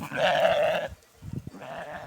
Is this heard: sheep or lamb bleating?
yes